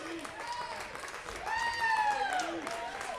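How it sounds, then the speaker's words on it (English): Parents applauding a youth under-12 hockey team at an ice rink, a steady, moderate wash of clapping that swells midway, with crowd noise and rink sounds mixed in. "getting a lot of applause from their parents for good effort"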